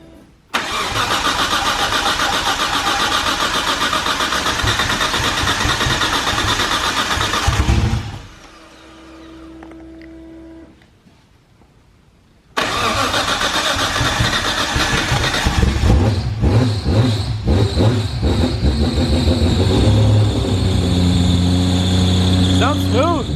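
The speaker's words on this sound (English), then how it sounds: "We're gonna start her up again and see how she sounds." A single-turbo RB26 car engine cranks and fires, revs loudly, cuts off briefly, then restarts and revs again with a rough, roaring tone; faint voices in between.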